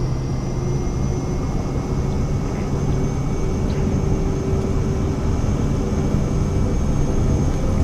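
Twin-like steady roar of the Vision Jet's engine at full takeoff power in Microsoft Flight Simulator 2024, a loud, continuous broadband rumble with a faint high whine held evenly throughout, no voices.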